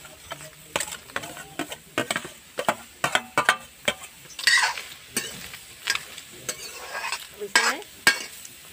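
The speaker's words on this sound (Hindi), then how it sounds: "इसमें मैंने काटा हुआ जो लौकी है इसमें मैं कढ़ाई में डाल देती हूँ" Chopped bottle gourd stirred in a wok on the stove, with repeated scraping and clinking strokes of a spoon over a soft sizzle, close and moderately loud, with no talking.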